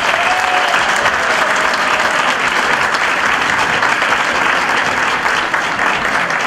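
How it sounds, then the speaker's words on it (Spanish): Sustained applause from an audience at a community event honoring the elderly, welcoming a group of school youths; dense, steady clapping fills the whole stretch with a faint voice briefly audible near the start. "Un aplauso para los pibes."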